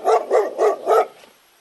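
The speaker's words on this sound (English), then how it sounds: "D for dog." A dog barks four times in an even, quick rhythm, loud and close, then the sound fades out, as a sound effect in a children's alphabet rhyme.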